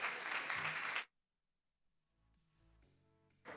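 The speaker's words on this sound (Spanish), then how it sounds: "Un aplauso para todos." A burst of loud applause from a crowd at an awards night lasts about a second and stops abruptly, followed by quiet room tone and faint music.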